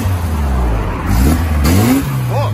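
A BMW 2002 Cabrio with a worn engine that burns oil, revving loud and close right after a cold start, with throttle blips rising and falling over a steady rough idle.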